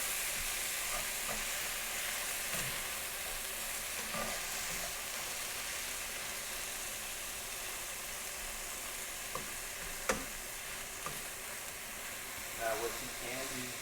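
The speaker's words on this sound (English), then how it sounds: "But these onions are starting to get caramelized though." Onions caramelizing in a frying pan give a steady, close sizzle and hiss throughout, with occasional stirring scrapes and clinks; a voice speaks briefly over it.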